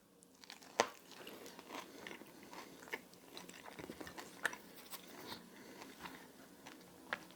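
Crunchy breaded carnivore chicken tenders being bitten and chewed close up, with a few sharp crunches standing out over quiet, steady mastication and no talking.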